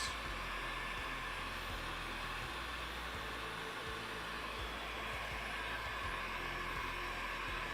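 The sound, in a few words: blow dryer drying leather scales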